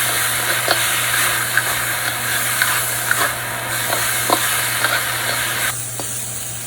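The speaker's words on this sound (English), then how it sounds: "And toss in your red peppers. Give them a stir." Red peppers sizzle steadily in a hot pan, a loud continuous frying hiss broken by occasional soft scrapes and clicks of stirring, close up with no talking.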